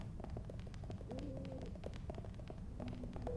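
A pigeon in the Neon Struct game gives a couple of soft, muffled coos, faint and close, over a low humming background with scattered light ticks.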